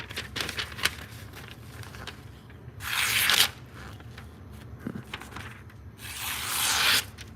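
A freshly sharpened Japanese kitchen knife slices through material in a cut test, giving two broad, bright swishing cuts about three seconds apart over a soft, steady background.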